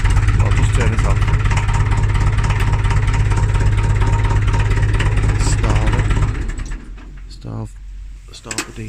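A cold FE35 industrial four-cylinder diesel engine with no glow plugs idles loudly and close, then is shut off, its steady low throb dropping away after about six seconds into clunks and quiet handling noises.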